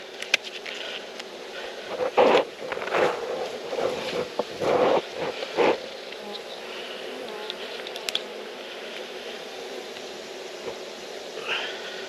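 Honeybees buzz around beehives in an outdoor beeyard with a steady hum. A few louder bursts come close by, and soft wind runs underneath.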